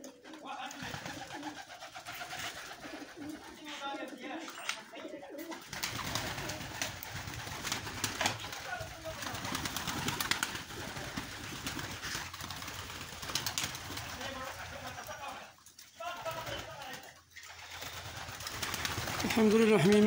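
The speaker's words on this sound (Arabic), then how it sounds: "الحمد لله الحميمات في ظروف صحية جيدة والحمام مرتاح وتيتشمش." Pigeons in a loft coo softly and repeatedly behind rustling and movement, with someone talking over much of it.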